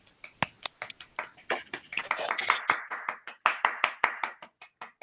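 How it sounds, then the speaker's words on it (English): Participants in an online panel meeting unmute and clap, producing a scattered run of separate, uneven hand claps from several people at once, fairly close and moderately loud, with snaps and taps mixed in over about five seconds. "let's give everybody a round of applause for that."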